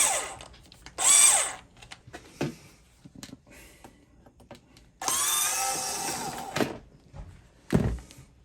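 Power drill driving self-drilling screws into a Commercial Cool portable air conditioner, whirring in several bursts of varying length, close by, with quiet pauses and light handling noises between the runs.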